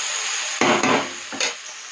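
Chilli powder being stirred into cabbage in a pan, a couple of brief scraping, rustling strokes over a steady hiss of cooking.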